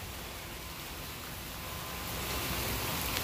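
Rain falls steadily during a typhoon as a dense, even hiss of drops that grows slightly heavier toward the end, with no voices.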